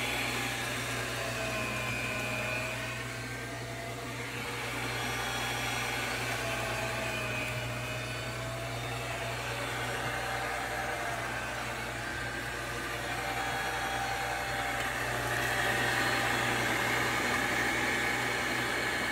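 Steady electric grinder whirring continuously for the full run as it grinds chopped vegetables for Guatemalan longaniza sausage, a loud, even motor drone with a low hum, no talking.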